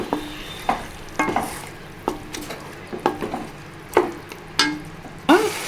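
Chicken pieces for Dhonne chicken biryani are stirred in a pot, with a sizzle under repeated scraping strokes and clinks of a spoon against the metal every half second or so, close and fairly loud.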